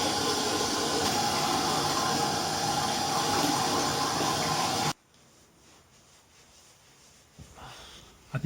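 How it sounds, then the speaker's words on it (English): Steady rushing water runs from a bathroom tap while a beard is washed, loud and continuous for about five seconds before cutting off to quiet with faint handling sounds. "Now I'm going to go wash my beard. Give it a good wash"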